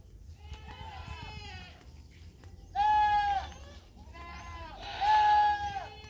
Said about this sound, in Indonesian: rame ya dengan bunyi kambing